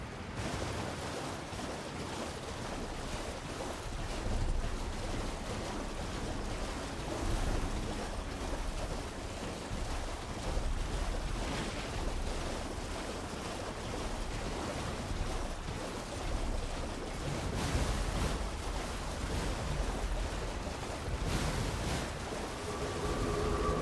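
A waterfall in the Elden Ring DLC, a steady, broad rushing roar of falling water that stays constant throughout, with faint gusty texture and no talking.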